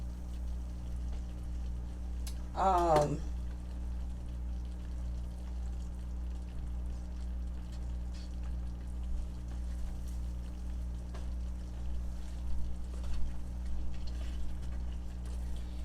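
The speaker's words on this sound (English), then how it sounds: "I might add a little bit more water in it to thin it out a little bit more." Water poured into a pan of homemade gravy to thin it, a short splashing pour lasting about a second near the start, then a quiet low hum with faint ticks and bubbling for the rest.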